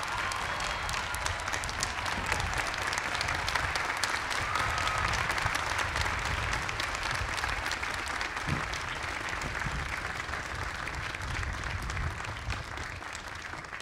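A large commencement crowd applauds its chairman, Bob Knox, with a long, steady roar of massed clapping that holds evenly for many seconds, broad and distant-sounding, with faint crowd murmur.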